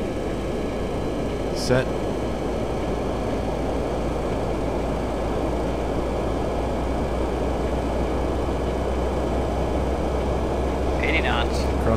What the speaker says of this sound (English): Up to takeoff power.